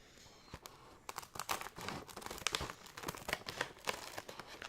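Thick Munchpak snack bag with a coated interior crinkles and crackles close up in irregular handled bursts, quiet overall with sharper crunchy peaks.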